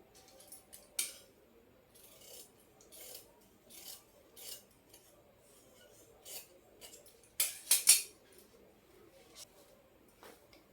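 Scissors cutting lining fabric for a blouse, a series of quiet separate snipping and rasping strokes spaced unevenly, with a louder cluster near the end, close and with no speech.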